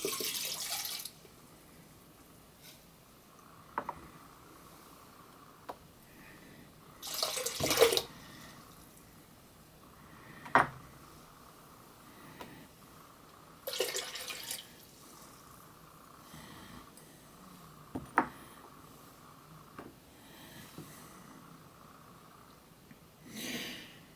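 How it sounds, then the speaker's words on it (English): Liquid poured from three beakers back into a pitcher during a chemistry magic trick, with several short splashing pours separated by quiet gaps, near and distinct, alongside occasional soft clinks. "Now I'm going to pour all three beakers back into the pitcher."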